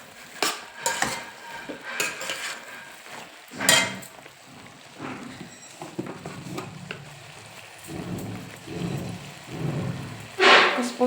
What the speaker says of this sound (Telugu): 1 నిమిషం ఆయిల్ పెట్టి ఈ మసాలా వేయించుకోవాలి.